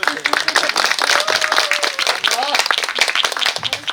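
Audience clapping at a village activist award ceremony, a dense patter of many hands carrying steadily through the clip with a voice rising briefly over it.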